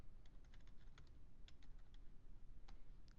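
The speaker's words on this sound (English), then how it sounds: "I'm just going to type student age" Typing on a computer keyboard: a quick irregular run of light key clicks, close and fairly soft, over a steady background hum, with no talking.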